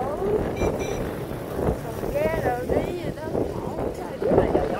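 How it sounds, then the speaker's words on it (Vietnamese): Strong wind buffets a boat on the water, roaring and gusting into the microphone while people talk nearby. "Trời ơi, gió dữ ta."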